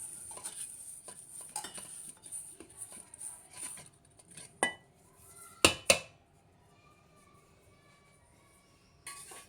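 Mango pieces for aavakaya pickle being tossed with salt in a metal vessel, giving soft rustling and stirring with a few sharp metallic clinks of a spoon, close and fairly quiet over a faint background hiss.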